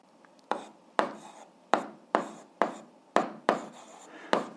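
Handwriting with a pen on paper while working an algebra exercise, a series of about nine close, crisp strokes and taps at an uneven pace, with no voices.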